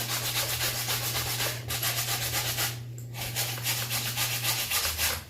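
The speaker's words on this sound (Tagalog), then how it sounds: "Saan yung may dumi, doon yung kuskusin mo." Dirty laundry is scrubbed by hand with rough, rhythmic rubbing strokes of fabric against fabric, close and steady with a brief pause midway, over a low background hum.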